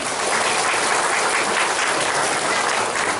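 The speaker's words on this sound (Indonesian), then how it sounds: "Saya minta tepuk tangan dulu dong buat panitia kita hari ini" A crowd at a pengajian, an Islamic religious gathering in Purbahayu, Pangandaran, gives the event committee a dense, steady round of applause that stays loud and even throughout, with no voices over it.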